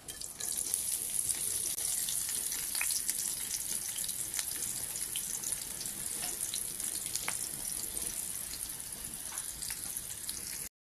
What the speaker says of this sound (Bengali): এবার একটু পেঁয়াজ ফেরেস্তা করব